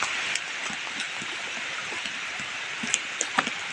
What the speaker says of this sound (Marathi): पाऊस चालूच आहे